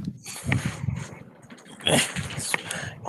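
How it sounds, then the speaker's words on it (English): A dog makes short snuffling, grumbling noises while burrowing under a pillow indoors, in a few close bursts with quiet pauses between them, and no one speaks. "Hiding my red vines from my dog."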